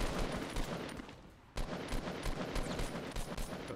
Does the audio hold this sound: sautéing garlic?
no